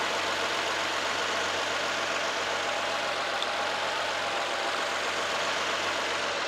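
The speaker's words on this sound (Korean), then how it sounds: "차량 엔진룸 앞에 나와 있는데 엔진 소리 먼저 한번 들려드릴게요" Infiniti QX60 gasoline engine idles steadily in the open engine bay, heard up close as an even, continuous hum with a smooth mechanical whir and no talking.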